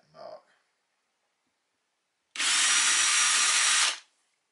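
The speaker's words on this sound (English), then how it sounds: "this is a 1mm drill I've got in here, I'm going to drill two holes down either side" A 1mm drill bit bores holes for mounting a Seep point motor on a model railway layout, a steady high-pitched power-tool whine lasting about a second and a half, close and loud, after a brief sound at the start.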